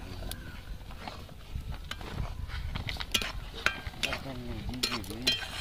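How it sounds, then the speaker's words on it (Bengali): Semolina is stirred little by little into salted water in a pot, giving soft scraping and stirring sounds with light clinks of a utensil against the pot, fairly quiet and uneven. "তো অল্প অল্প সুজি দিয়ে এরকম নাড়াচাড়া করতে থাকবো যাতে না দলা পেকে যায়।"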